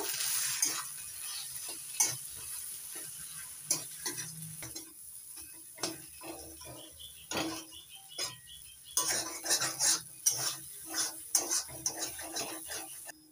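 Egg devil filling with Kashmiri red chili powder frying and being stirred in a pan, with irregular spatula scrapes and clinks against the metal over a low sizzle, close and moderately loud, no voices.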